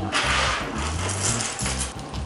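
Coins poured into the coin pocket of a HIROKO HAYASHI wallet, a dense run of close metallic jingles and small clinks lasting a couple of seconds with no talk.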